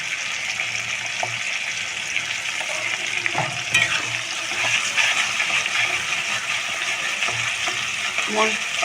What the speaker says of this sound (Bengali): মশলাটা দিয়ে আমি একটু মশলাটা ভেজে নেব। মশলাটা ভালো করে ভেজে নেব।